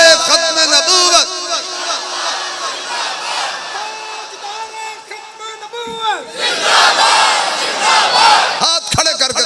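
A large crowd at a religious gathering shouts a slogan in unison, raising loud, drawn-out chanted bursts with a male leader's voice calling out between the crowd responses.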